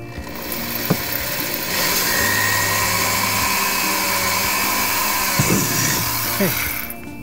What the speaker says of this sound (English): Nice slow controlled drill.